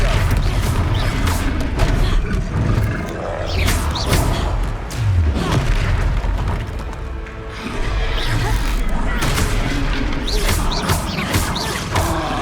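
Repeated spell blasts and combat impacts from the Hogwarts Legacy video game, with thuds and crashes layered over game music and character voices throughout.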